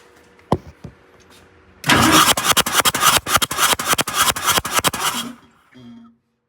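A vintage MCI 5C bus engine that is down on power cranks with a rapid chugging rhythm for several seconds, then settles briefly before cutting off, loud and close.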